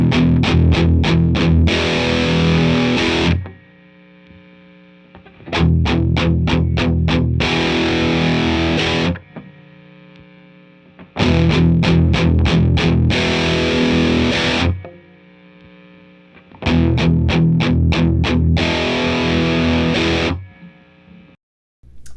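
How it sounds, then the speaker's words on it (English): A heavily distorted electric guitar plays the same riff four times, alternating between a BOSS LM-2 limiter switched off and on, with rapid palm-muted chugs, sustained chords and brief quieter gaps between passes. "bouncing back and forth with the pedal off and the pedal on."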